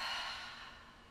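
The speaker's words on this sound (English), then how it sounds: "inhale through the nose, filling up the belly, and then exhale through the mouth" A single slow exhale through the mouth after a nasal inhale during a sciatic and low back release breathing exercise, a soft airy breath close to the microphone that fades gradually.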